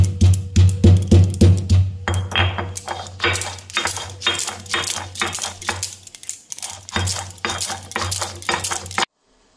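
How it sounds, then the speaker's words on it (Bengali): Ginger ground on a stone slab with a grinding stone, rhythmic rocking knocks and gritty scrapes repeating in quick bursts, loud and close, then stopping abruptly. "আদাটা বেটে নেব, এই শিলের উপর রেখেছি, আদাটা বেটে নেব"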